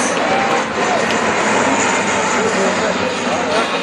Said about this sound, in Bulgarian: Този път единият самолет идва отляво, а другият отдясно на вас.